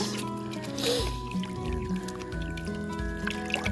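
Ginger, garlic and oregano squeezed by hand to draw out their juice, giving soft wet squelching and dripping sounds that run steadily near the microphone.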